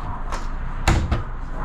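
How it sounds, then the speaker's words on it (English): Pull-out pantry drawers in a luxury motorhome slide and knock shut, giving a few close, dull thumps and clacks against a quiet room background. "nice pantry right here with a couple pull-out drawers."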